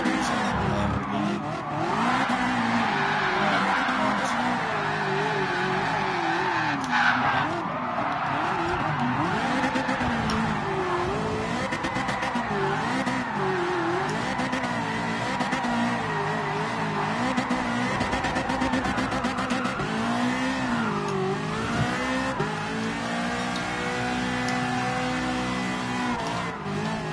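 A Ferrari F40 in a driving game revs and slides for nearly half a minute, a steady engine drone rising and falling with gear changes and long tire squeals, loud and continuous.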